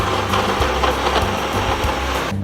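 A blender whirs loudly as it mixes fishball batter with cornstarch, its motor pitch wavering and dipping in short pulses as the thick mixture churns, with no talk.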